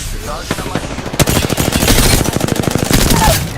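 Rapid automatic gunfire from an Apex Legends match crackles in a dense, loud burst of closely spaced shots lasting a few seconds, with a brief pause at the start before the volley.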